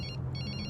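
Telephone in a movie scene ringing in a quick double-pulse pattern, bright and close, standing alone without voices.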